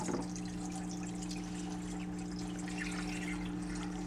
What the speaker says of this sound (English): There, see, we got bubbles again.